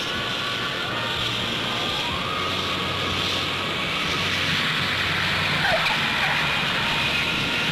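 Concorde supersonic airliner, 1969, coming back from its first test flight: a steady, dense broadband roar that holds at an even loudness throughout, like a distant jet passing overhead with no break.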